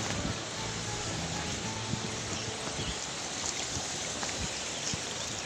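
Water of the Pikatan river flowing outdoors, a steady broadband rush with low rumbling undertones throughout, no talking.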